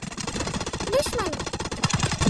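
Rapid automatic enemy gunfire rattles steadily in a mobile shooter game played on a smartphone, a continuous burst heard under a voice talking.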